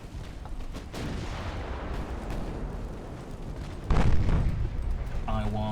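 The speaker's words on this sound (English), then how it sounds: "I want full HE salvos. Burn her to the ground." Naval gun salvos in the warship game Ultimate Admiral Dreadnoughts, a dense, rumbling barrage of booming gunfire that swells sharply partway through, with speech faintly present.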